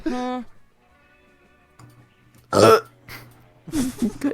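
A person burps once, a short loud guttural burst set between stretches of speech.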